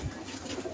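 Soft cooing of a baby pigeon at close range, a low murmuring coo filling the short moment with no talk.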